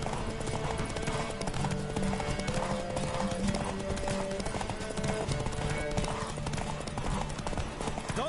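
Rapid clip-clop of galloping hooves in a steady rhythm, close and loud over a dense game soundtrack, with a brief horse whinny, in The Witcher 3: Wild Hunt.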